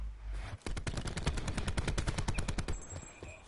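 Rapid automatic gunfire in the video game Call of Duty Black Ops 4, a dense, loud burst of fast repeating shots filling nearly the whole stretch with no talk over it.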